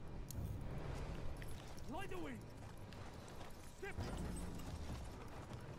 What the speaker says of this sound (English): Alright, I'm gonna ride a horse.